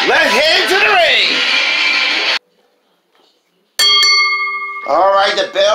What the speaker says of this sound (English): All right, the bell rang.